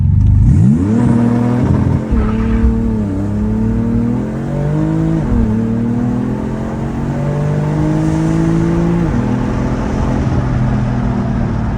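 A 600-horsepower Porsche 911 of the 997.2 generation accelerates hard from inside the cabin, its engine climbing repeatedly in pitch with abrupt, firm gear shifts between pulls, loud and close throughout.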